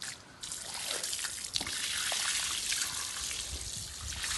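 Hot well water scooped and poured at a warm-water well, a steady close trickle and splash running throughout with a brief louder slosh midway.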